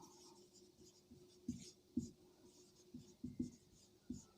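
A maths question being written on a board, with a series of sharp, distinct pen or chalk strokes in uneven rhythm, close and fairly quiet, with no talking.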